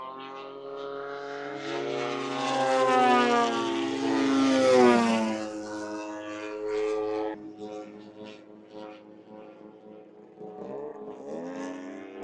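A radio-controlled model airplane's engine drones overhead at a fly-in, its pitch rising and swelling as it passes close, then fading and dropping away into the distance, with faint voices toward the end.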